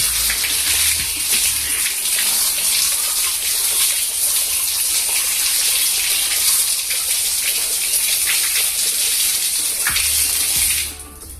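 Water is poured over a smartphone during a waterproof test, a steady, loud broadband splashing and gushing that runs unbroken for about eleven seconds before cutting off at the end.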